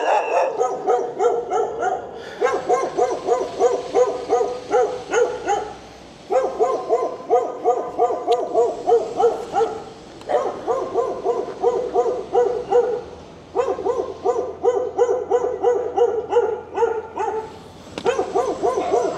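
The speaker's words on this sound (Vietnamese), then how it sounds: "Đây nhà nuôi mấy con chó lớn à." Large dogs kept at a house in District 8, Ho Chi Minh City, bark repeatedly and loudly at close range. The barks come in rapid bursts separated by short pauses.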